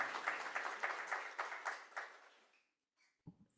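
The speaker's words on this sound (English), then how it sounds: "please thank her and give her a round of applause" An audience at an art law day event claps in a burst of rhythmic applause that swells and fades out after a couple of seconds, followed by a brief quiet and a short voice.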